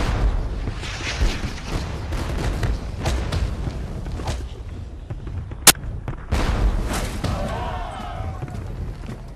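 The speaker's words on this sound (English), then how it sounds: "As the Old Guard march toward the ridge, they get a taste of British artillery." British artillery pieces firing canister shot at the advancing Old Guard at Waterloo, dull booms and a sharp crack rising out of a rumbling battlefield din, with a voice speaking over the noise.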